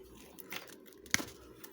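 Insulation stripped off a wire during a splice on a Gradiente S-125 tape deck repair: a few quiet scraping, crinkling pulls and one sharp snap, close and without talk.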